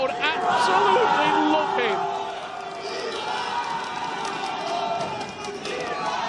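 A stadium crowd roars and cheers after a goal in a football video game during an eLibertadores esports match, a loud swell that fades to a steady murmur while commentators talk excitedly over it.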